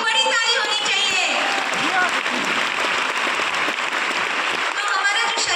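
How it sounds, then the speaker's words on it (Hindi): A crowd claps together in a big round of applause at a talk about kombucha, the dense clapping running throughout with scattered cheers and voices over it. "कंबुचा के लिए एक बड़ी ताली होनी चाहिए।"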